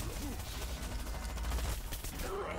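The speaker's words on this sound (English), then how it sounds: "there was two of them shooting me" Rapid, dense gunfire in the game Plants vs Zombies Garden Warfare 2, a continuous crackling fusillade sustained loud throughout with no talk.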